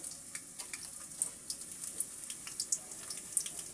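Chopped onions fry in a pan for fried rice, giving a faint, steady sizzle with soft scattered crackles and pops throughout.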